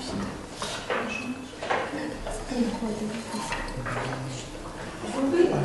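A glass reagent bottle is capped and set back on a lab bench with light clinks and knocks, heard close while a person speaks over it.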